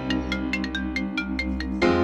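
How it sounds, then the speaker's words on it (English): A phone ringtone plays a quick melodic pattern of bright repeated tones over a sustained low musical bed, close and clear, with no talking. "hold on, my phone a ring."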